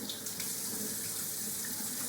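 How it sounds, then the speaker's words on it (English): A kitchen tap runs steadily, a continuous hissing stream of water splashing into a sink, close and even for the whole stretch. "Go ahead, turn the water on"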